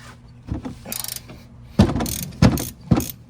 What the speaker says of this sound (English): We're using a number 14 to loosen the bolts here